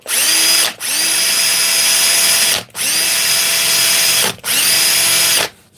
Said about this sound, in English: put it in the drill